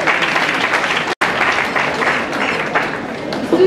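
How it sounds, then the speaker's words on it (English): An audience claps at a lecture on corruption, a dense, sustained burst of applause that briefly cuts out near the middle, with some voices underneath. "Can you all clap for yourselves for being here?"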